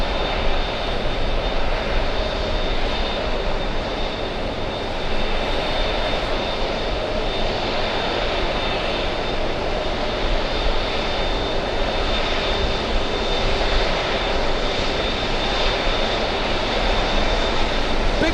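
An Emirates airliner's jet engines roar in a broad, steady wash that holds level for the whole stretch, heard from some distance without any talk.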